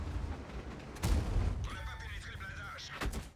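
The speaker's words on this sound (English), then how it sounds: "you'll receive some artillery shots" Artillery shots from a tank video game land with a heavy boom about a second in, then a second thud near the end, both fairly distant over a low background rumble.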